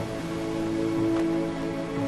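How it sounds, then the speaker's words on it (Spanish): Storm rain pours over a ship caught in a storm at sea off the coast of Chile, a steady dense wash of noise with a low tonal drone running beneath it. "el barco se ve atrapado en una tormenta"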